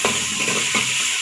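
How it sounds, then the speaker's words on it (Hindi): Garlic paste fries in hot ghee with onions, giving a steady close sizzle and hiss with soft stirring scrapes throughout. "अब मैं इसके अंदर 1 टेबलस्पून लहसुन का पेस्ट शामिल करूँगी। इसको भी हम साथ ही फ्राई कर लेंगे।"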